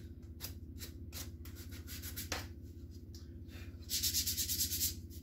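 A Guitar Hero guitar faceplate is sanded by hand with 320-grit sandpaper: rapid rhythmic scratchy rubbing strokes, close and steady, growing slightly louder and harsher near the end.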